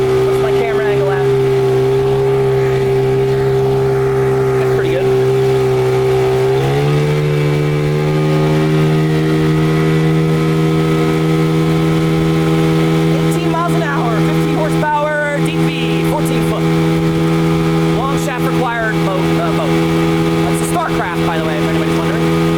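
A 1998 Johnson 15 hp outboard motor runs loud and steady, then its throttle is opened and the pitch steps up and holds at a higher drone, with a person talking briefly over it.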